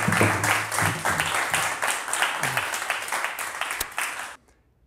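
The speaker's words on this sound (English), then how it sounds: "Give him a round of applause." An audience claps at a Wing Chun martial arts session, a dense round of applause that fades in waves and stops abruptly near the end.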